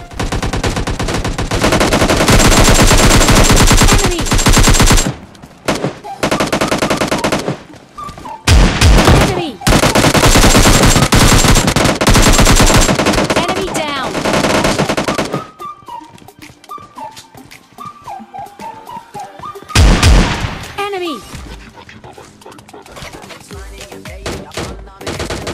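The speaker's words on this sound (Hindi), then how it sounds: "अब जस्ट बंदा स्कारल का मतलब फायर करता है" SCAR-L rifle fire in the video game PUBG Mobile Lite, with loud repeated automatic bursts broken by short gaps, then sparser shots and game effects, with someone talking over parts of it.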